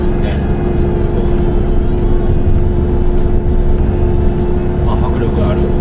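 A Suzuki Jimny JB64 with about 200,000 km, driving after a muffler replacement, with a steady loud exhaust drone and road rumble heard from inside the moving vehicle, constant throughout with faint talk underneath.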